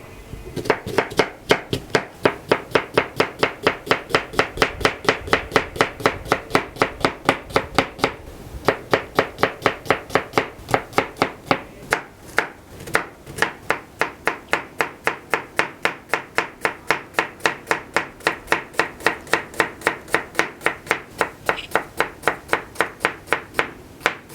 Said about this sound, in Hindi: जो 1 अदद प्याज बच गया था उसको चॉप कर लेते हैं जल्दी जल्दी